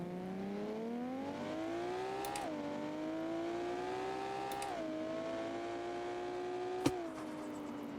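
A drag race car held on a trans brake in BeamNG, its engine rising in steady whining pitch sweeps that drop back between pulls, loud and continuous with a sharp click near the end.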